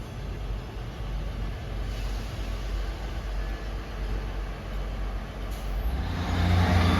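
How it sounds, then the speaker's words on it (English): Great Western Railway Cardiff Central to Penzance diesel unit 158950 pulling out of Ivybridge station, a continuous heavy engine rumble close by that swells louder in the final seconds. "Departing out now is the 1019 Great Western Railway service from Cardiff Central to Penzance."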